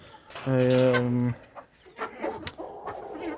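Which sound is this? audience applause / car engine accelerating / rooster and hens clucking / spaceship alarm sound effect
rooster and hens clucking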